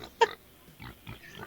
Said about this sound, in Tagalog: Umiyak na yung baboy ko eh.